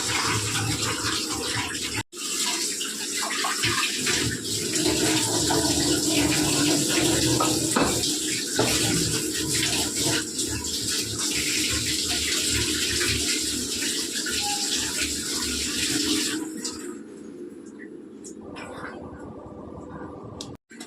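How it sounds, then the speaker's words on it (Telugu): Tap water runs steadily into a sink while fish is washed for a Sunday fish curry, a continuous close splashing rush that cuts off near the end. "చేప కడిగి శుభ్రంగా కడిగి పక్కన పెట్టుకున్నాను"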